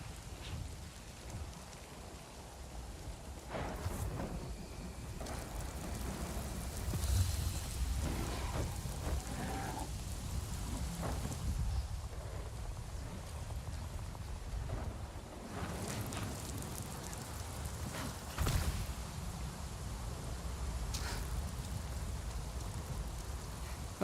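Steady rain falls in the Pandora jungle of the video game Avatar Frontiers of Pandora, a constant hiss of drops on foliage with low rumbles of thunder rolling in at intervals, no voices present.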